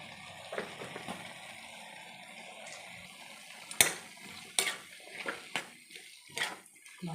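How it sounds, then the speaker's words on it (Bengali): Bottle gourd with spices is stirred in a pan, a quiet wet simmering broken by several sharp scraping knocks of a spoon against the metal in the second half. "ভালোভাবে নাড়াচাড়া দিয়ে আমি ঢেকে দেবো"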